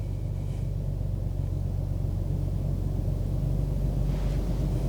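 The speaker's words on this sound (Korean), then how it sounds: "뒤에서 들려오는 엔진음 자체가 좀 많이" Inside an Audi RS 5 Sportback 2900cc 450 hp in RS mode, a low, steady engine rumble booms from the rear while cruising, constant and moderately loud with no talking.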